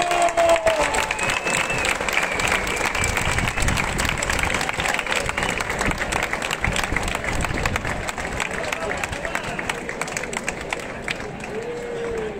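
Sustained audience applause in an outdoor cloister concert venue in Zaragoza for a band, dense steady clapping with some crowd murmur and faint voices throughout, fairly loud and continuous for the whole stretch.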